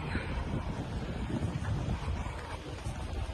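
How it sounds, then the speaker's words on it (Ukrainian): Gusty seaside wind in England roars across the microphone in a steady, blustery rush, with a low rumble of open water underneath. "на морі такий вітер"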